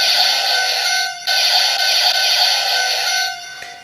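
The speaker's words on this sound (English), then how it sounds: "you'll get a blasting sound along with bullet train sounds." An electronic toy sound effect from a Lupinranger VS Patranger X Changer toy: a bright, sustained synthetic bullet-train-like tone with a brief dropout, loud and close, ending abruptly.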